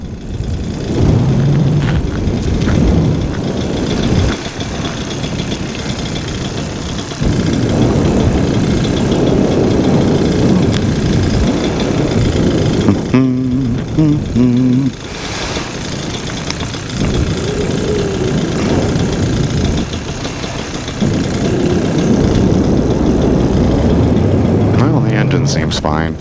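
A paramotor engine drones loudly and continuously in flight on a cool day, steady buzzing with wind rush, briefly dipping before resuming, while the pilot talks over it at times.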